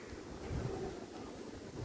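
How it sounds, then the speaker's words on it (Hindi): Wind gusts buffet the microphone outdoors during light rain on a village trip, a faint, rumbling rush that swells and eases with no voices. "ठंडा हवा चल रहा है एंड हल्का हल्का बारिश हो रहा है"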